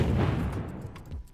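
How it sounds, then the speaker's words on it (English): Punchy, crisp first layer of a game explosion sound effect: a dense low boom with popping crackle that holds loud for just over a second, then tails off slightly. "But this is not the end of the explosion. This is basically just the popping first layer."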